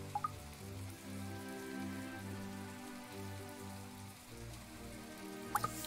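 Steady, quiet rainfall patters in the video game My Time at Portia, with soft game music beneath and a few faint clicks.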